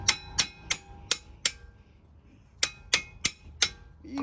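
Sharp metallic hammer blows on metal while working bolts on a Jeep Cherokee, a steady run of about five strikes, a short pause, then four more, close and ringing.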